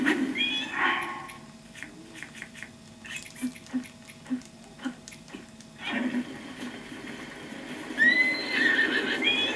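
A horse whinnies near the start and again toward the end in a video game, The Legend of Zelda: Breath of the Wild, with quieter snorts and soft clopping in between.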